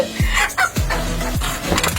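A chicken squawks and clucks in short agitated bursts, close by, with scuffling and handling noises around it.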